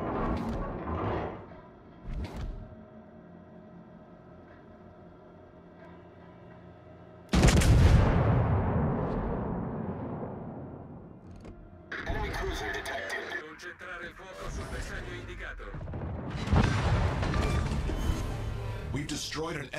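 Heavy naval gunfire strikes a designated target in the warship game Congress, with a big sudden blast followed by a long rumbling decay and further crashing impacts, under a continuous game background with intermittent speech.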